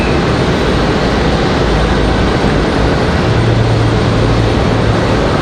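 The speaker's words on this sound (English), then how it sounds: "This is going to be a CRJ coming in from JFK, New York." CRJ regional jet arriving from JFK at Raleigh-Durham airport, a dense continuous jet roar holding steady throughout, with a low engine drone emerging toward the end, no voices.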